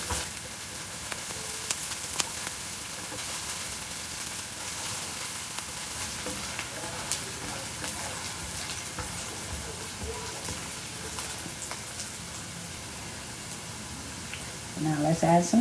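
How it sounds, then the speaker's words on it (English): Onions sautéing in olive oil in a pan for baked beans, a continuous soft sizzle with occasional stirring scrapes and a louder clatter near the end. "We're going to saute some onions."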